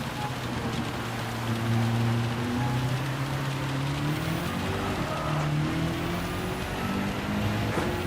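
Rain falls on the track at Fuji in Gran Turismo 7 behind a race car's engine, a steady hiss under droning, shifting engine tones throughout.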